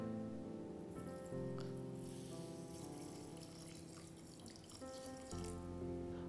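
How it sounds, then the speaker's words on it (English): Water runs into sugar in a heavy-bottomed pan as a soft, faint pouring trickle lasting several seconds, nearly buried under steady background music. "we need to add some water in it."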